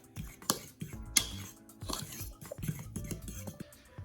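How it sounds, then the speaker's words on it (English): A utensil stirs dry biscuit ingredients such as flour and baking powder in a bowl, giving scattered clinks and scraping taps against the bowl at close range, with no talking. "Now we'll just make sure that this is well mixed so everything's all over the place."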